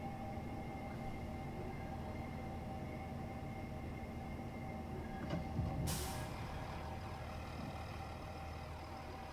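A Class 700 electric train braking in Train Simulator gives a steady low rumble and mechanical drone, with a sharp hissing burst of air partway through before the rumble continues evenly.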